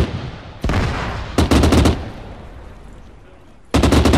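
Gunfire in the video game Arma 3 comes as loud, close bursts of automatic fire, one short volley followed by a longer rattling burst and another after a pause, amid battlefield ambience.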